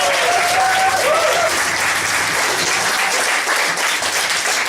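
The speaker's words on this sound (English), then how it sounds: "a massive round of applause for Matty Delaney." Comedy club audience gives a big, sustained round of applause at the end of a stand-up set, dense clapping and some cheering filling the room steadily throughout.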